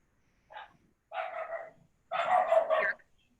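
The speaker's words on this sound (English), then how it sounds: "That's the dog answering?" A dog barks three times during a virtual meeting, a short yelp followed by two longer, louder barks with clear gaps of silence between them, close to the microphone.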